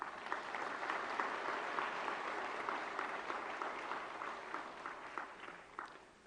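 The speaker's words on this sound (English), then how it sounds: "May I request all of you to welcome the President of India with a round of applause." A large audience at a conference claps steadily in sustained applause to welcome the President of India, a dense even patter that holds throughout and tapers slightly near the end, with no voices over it.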